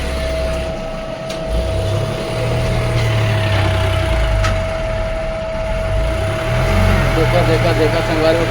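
Tractor engine idling and rumbling close by, a continuous low throb with a steady tonal hum, while someone talks over it.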